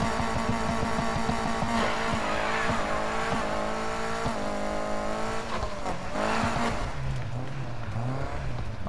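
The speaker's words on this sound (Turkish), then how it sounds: "O arabanın sesi mükemmel değil mi ya?" A car engine in Need for Speed Heat roars and revs loudly and continuously, with rising and falling gear changes, and tire squeal appears along the way.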